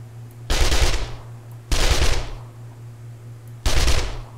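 Three bursts of automatic gunfire from an enemy's gun in a video game, each lasting about a second, separated by pauses over a steady low hum, loud and close with no talking.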